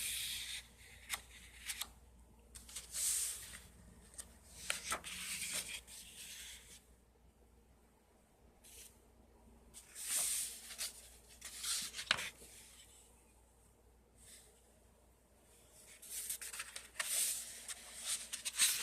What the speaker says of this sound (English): I hope you can hear the quality of this paper. See, it's very thick.